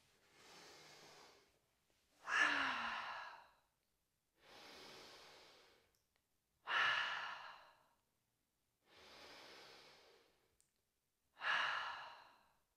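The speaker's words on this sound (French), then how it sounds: "venir prendre 3 inspires par le nez et 3 expires par la bouche" Slow yoga breathing, three cycles of a soft inhale through the nose followed by a stronger, airy sighing exhale through the mouth, evenly spaced with silence between.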